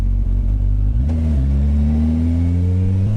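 A loud turbocharged Suzuki Hayabusa motorcycle engine blips, then climbs in a rising rev with a whining pitch, close and brief.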